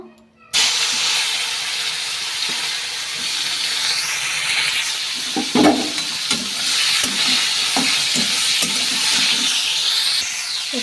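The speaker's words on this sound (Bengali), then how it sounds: "এবার মাছ ভাজা তেলেই আমি ফুলকপিটা ভেজে নেব।" Cauliflower pieces fry in the oil left from frying rohu fish in a pan, giving a steady broadband sizzle with occasional stirring knocks and scrapes throughout, close and fairly loud.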